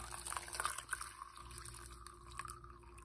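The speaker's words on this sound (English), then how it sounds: "I'm gonna pour it in my mug." Hot tea poured from a pot into a mug, a soft close liquid trickle and splash lasting a few seconds, fairly quiet.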